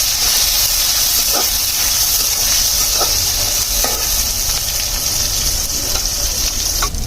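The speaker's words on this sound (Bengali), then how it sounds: "পেঁয়াজগুলো ভাজা হয়ে গেছে" Large-cut onions sizzle and fry in a pan of hot oil, a loud continuous hiss with a few light stirring scrapes and clicks scattered through.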